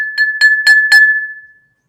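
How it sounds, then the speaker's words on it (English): A glass is clinked four times in quick succession for a toast, bright ringing chimes close to the microphone, the tone sustaining and fading out after the last tap, with no talking. "let me clink the glass"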